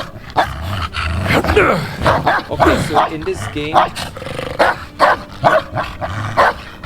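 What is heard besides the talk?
dog barking in video game Indiana Jones and the Great Circle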